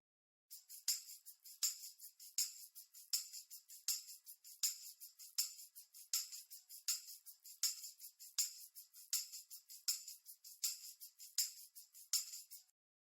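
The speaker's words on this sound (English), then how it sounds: "these percussion samples are a bit masked by the overheads on the drums" Bright, high-pitched percussion hits repeat in a steady, quick rhythm, thin and trebly with no low end, playing alone throughout.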